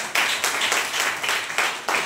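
A church congregation claps together in a loud, rhythmic pulse, roughly four or five strong beats of group hand clapping evenly spaced, with no speech over it.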